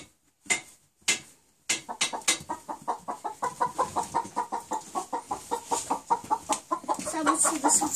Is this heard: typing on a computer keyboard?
no